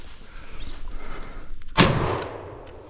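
A single loud, nearby gunshot rings out while hunting wild hogs on Florida public land, a sharp crack with a decaying tail, preceded by rustling and movement through brush.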